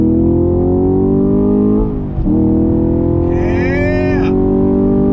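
Chevrolet Camaro SS 1LE pulling hard at full throttle in second gear on a public road, a loud steady engine roar with a brief dip midway before climbing again in pitch.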